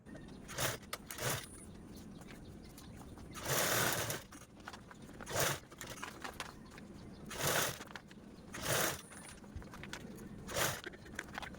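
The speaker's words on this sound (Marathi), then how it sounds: "अशा पद्धतीने आपण ही पूर्ण साईडने डबल फोल्ड करून स्टिच करून घेऊया" A sewing machine stitches piping along a double-folded edge of a fabric blouse cover in close, loud bursts of rapid whirring, with about seven runs separated by short pauses.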